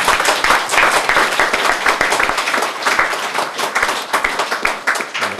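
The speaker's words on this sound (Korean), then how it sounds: "우리 하나님께 감사하는 마음으로 박수를 드리겠습니다." A church congregation claps together in thanks during a building dedication service, dense steady applause filling the room throughout with no voices over it.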